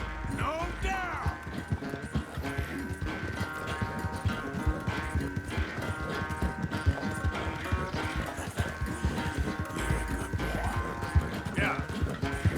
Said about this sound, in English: My horse is way too fast for him.